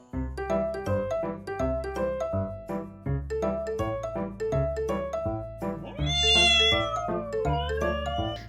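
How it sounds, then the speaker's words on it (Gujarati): Cats at a championship cat show in Ahmedabad, held by the Feline Club of India, give repeated close meows in a steady rhythm, ending with a louder, drawn-out rising cry. "નરમ શરીર અને અનેક રંગ ધરાવતી બિલાડીઓ બની અમદાવાદમાં આકર્ષણનું કેન્દ્ર"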